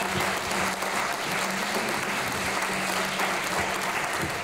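Dense, loud audience applause fills a concert hall after a vocal performance, steady and sustained throughout.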